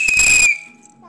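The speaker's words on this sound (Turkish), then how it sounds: "Bu düdük." A child's toy whistle is blown in one loud, shrill half-second blast, followed by a faint lingering tone and a brief voice.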